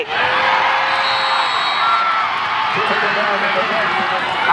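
Crowd noise at a high school football game between Parker and Hoover, a broad steady wash of cheering and whoops with voices mixed in throughout, loud and continuous.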